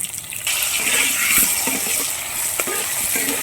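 Cauliflower frying in a pan with salt, turmeric and green peas: a steady, close sizzle with stirring scrapes and light clinks scattered through it.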